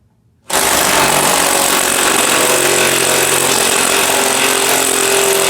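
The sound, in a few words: fuel pump running on Chevrolet C10 truck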